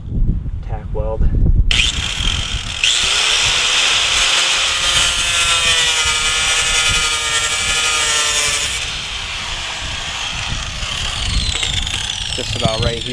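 A car fender lip being cut with a power tool about half an inch from the edge, a loud steady grinding-saw whine running for several seconds after a brief burst of talk and tool noise at the start.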